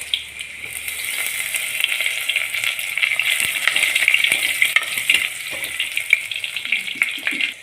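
Green chilies and curry leaves crackling in hot oil for a Kerala fish curry, a bright hiss with scattered pops and a few utensil scrapes, close and fairly loud, no voices.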